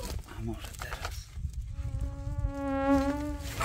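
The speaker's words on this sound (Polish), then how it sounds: "To są takie gryzące muchy." Biting flies buzz on a beach, a close insect drone rising into a clear sustained whine in the second half, with muffled voices and wind noise beneath.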